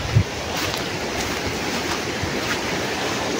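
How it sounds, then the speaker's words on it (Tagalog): River water flows steadily outdoors, a continuous broadband rushing wash with a slight windy texture and no voices. "Ang ganda ng ilog ko."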